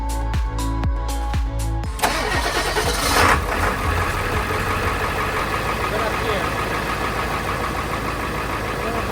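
A Ford F350 with a 7.3 Powerstroke diesel engine cranks with several rhythmic starter pulses, then fires and settles into a loud, steady, rough diesel idle close by.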